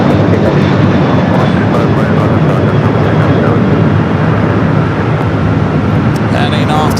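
An airliner departs Los Angeles International Airport, bound for Phoenix, Arizona, its engine roar loud and steady throughout, with a faint radio voice in the background.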